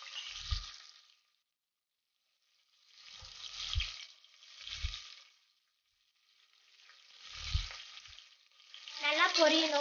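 Onion, green chillies and curry leaves fry in hot oil with mustard seeds and cumin for beetroot sambar. The sizzle comes in close bursts separated by short silences, with a louder, crackling spurt at the end.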